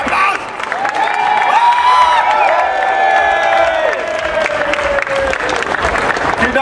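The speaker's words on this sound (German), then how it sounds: "Bitte jetzt mal Applaus" A concert crowd applauds loudly at a live show. The dense clapping mixes with cheers and whoops and is sustained throughout, while held electronic tones drift over it.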